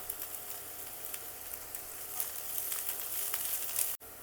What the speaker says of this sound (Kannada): ಸೊ ಈಗ ಸ್ವಲ್ಪ ಕರಿ ಲೀವ್ಸ್ ಆ್ಯಡ್ ಮಾಡ್ತಾ ಇದ್ದೀನಿ